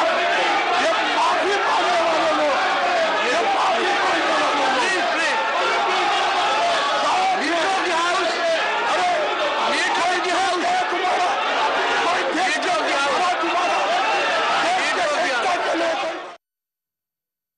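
Members of parliament shout and clamour in a crowded chamber, a dense, continuous uproar of overlapping raised voices that stays loud and unbroken before cutting off abruptly.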